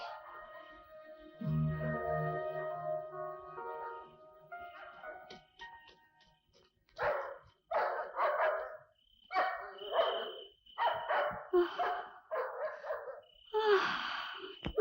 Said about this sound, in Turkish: Şu köpeği susturmalı.